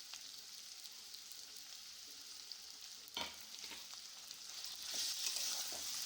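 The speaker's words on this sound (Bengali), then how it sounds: "দেখে বুঝতেই পারছো আলুটা প্রায় ভাজা হয়ে গেছে" Potatoes frying in a pan, a quiet, steady sizzle with an occasional stir or scrape, swelling a little louder toward the end.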